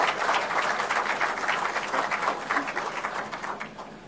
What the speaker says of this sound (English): So we can give him a round of applause.